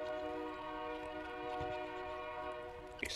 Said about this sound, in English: Excuse the train in the background.